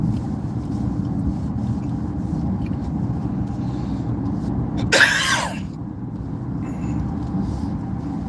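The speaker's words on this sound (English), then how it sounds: "cough in the morning I just can't get rid of." A single short cough breaks through a steady low engine hum, with no other voices around it.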